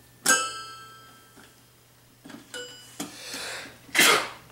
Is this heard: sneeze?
yes